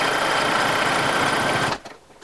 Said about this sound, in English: I'm just going to zigzag stitch right on top of the elastic